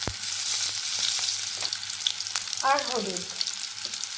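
Boiled potato pieces fry in hot oil with salt and turmeric, a steady close sizzle with light stirring scrapes throughout, and a voice speaks briefly over it.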